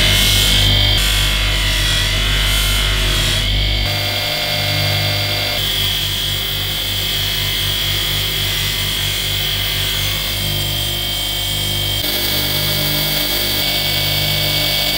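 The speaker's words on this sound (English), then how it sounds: "the polish that we put on the wheel to give it a lovely shine" A jewellery polishing wheel loaded with yellow polishing compound buffs a watch, a continuous loud motorized whine and rubbing hum holding steady for about fifteen seconds without talk.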